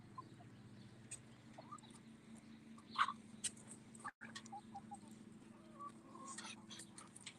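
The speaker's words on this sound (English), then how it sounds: "I love these birds. Absolutely love these birds." Pet chickens clucking softly around a keeper carrying a bucket, with scattered short clucks and one louder call near the middle over a steady low background; someone talks occasionally nearby.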